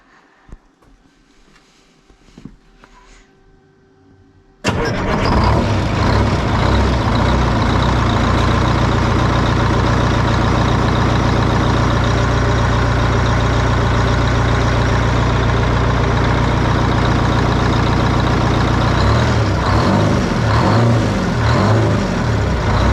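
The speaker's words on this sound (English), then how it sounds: "I thought maybe I'd fire it up just because I wanted to hear it run one more time" An abandoned GATR race truck engine fires up after quiet workshop sounds and settles into a loud, rough, rumbling idle that holds steady close by for nearly twenty seconds.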